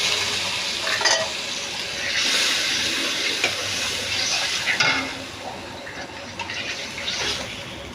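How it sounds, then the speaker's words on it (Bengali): Spice paste sizzling and being stirred in a pan with a little water added while cooking a Bangladeshi kochur loti recipe, a steady frying hiss with scraping stirs and soft splashes throughout. "আর একটু পানি দিয়ে আমি মশলাটা ভালোভাবে কষিয়ে নেব।"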